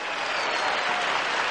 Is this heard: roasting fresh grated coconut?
no